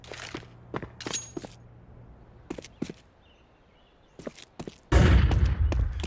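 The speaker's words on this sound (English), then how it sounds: "I'm throwing a flashbang." In Counter-Strike, a few quick footsteps and clicks lead up to a flashbang grenade going off in a sudden loud burst, followed by a harsh ringing wash that slowly fades.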